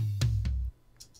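Edited drum tom tracks played back solo in Pro Tools: two close, punchy tom hits in quick succession, each with a short low boom that cuts off. Brief faint cymbal-like ticks follow, with no talk.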